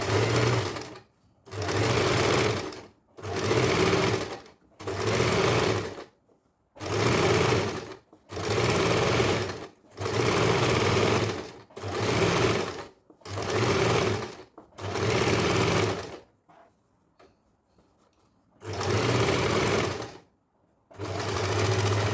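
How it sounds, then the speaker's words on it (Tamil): Sewing machine running in repeated bursts of about a second or two each, stitching along a garment neckline with short pauses between runs, close and steady. "இப்போ இந்த லைன் மேலே ஸ்டிச் பண்ணுவோம்."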